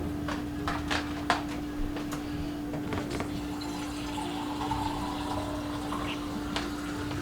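Water trickles and splashes as it fills the base of a stovetop espresso pot. The sound is soft and steady, with a constant hum underneath and a few small clinks.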